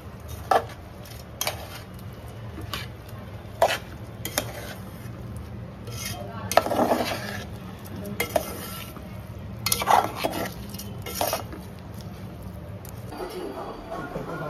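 Fish curry being stirred and mixed in a pan, with scattered metallic clinks and scrapes of a spoon against the pot over a steady low hum, while voices murmur faintly in the background.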